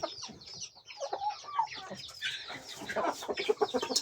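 Several Brahma hens kept together clucking and calling close by, a busy overlapping stream of short clucks and squawks.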